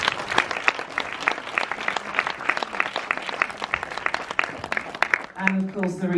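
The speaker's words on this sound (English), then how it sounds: "Please give him a round of applause." Audience applause for a director at a film premiere event, with distinct individual claps at a brisk rhythm, before a voice starts speaking over fading claps near the end.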